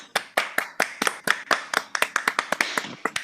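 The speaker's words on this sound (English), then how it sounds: "There is big applause." Hands clap in a sparse, fairly close round at a table read of Dead Poets Society, with about twenty distinct sharp claps in an uneven rhythm and little else around them.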